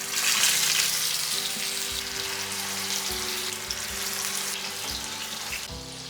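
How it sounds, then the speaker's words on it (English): Kheema kebab cutlet dropped into hot oil, a loud close sizzle that starts bright and settles into steady frying with occasional light stirring or scraping sounds. "now I'll drop this in the oil"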